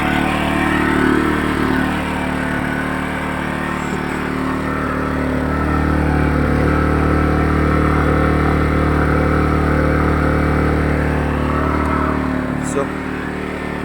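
An NIG GNR 3050 Germani inverter generator runs quietly and steadily, a low even hum with mid-range drone holding unchanged for the whole stretch, with faint voice traces at moments.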